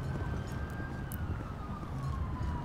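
An ambulance siren wails in GTA 5 while playing as a paramedic, a faint, slowly sliding tone over a loud, rumbling engine and road noise.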